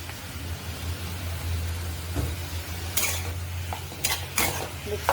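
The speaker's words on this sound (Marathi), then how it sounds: "आता टोमॅटो टाकूया. टोमॅटो कोथिंबीर एकत्र टाकते." Tomatoes and coriander cooking in a pan for masala dosa filling, a soft sizzle under a low hum, with several clattering scrapes of a spoon stirring against the pan toward the end.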